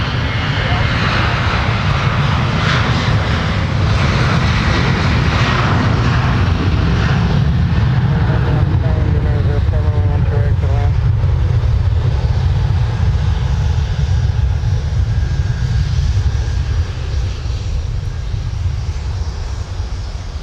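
A Delta Boeing 737-900ER departs Minneapolis–Saint Paul on the south parallel runway bound for Phoenix, a loud sustained jet roar that holds steady and eases slightly toward the end, with someone talking over it.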